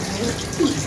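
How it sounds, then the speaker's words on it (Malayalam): Hands being washed under a running kitchen tap during snack preparation, a steady close splash of flowing water with a brief louder gush near the end. "ഇനി ആ കൈ കഴുകുക."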